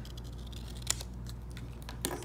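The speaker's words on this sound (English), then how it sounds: "slightly on the inside of our traced line with some nice fine tip scissors" Fine tip scissors cutting scrapbook paper along a traced line, a run of small close snips with two sharper clicks, quiet over a low steady room hum.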